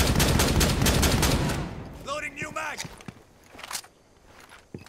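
Gunfire rattles in Rainbow Six Siege, dense rapid shots at first, then fading into scattered bursts and footsteps while a voice talks over part of it.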